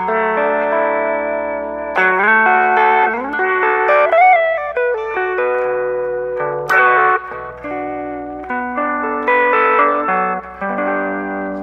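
An electric guitar runs through the Strymon Mobius destroyer effect, bit-crushed and band-pass filtered to a thin midrange tone with some crackle. It plays a steady phrase of picked notes and chords, loud and processed, with no talking.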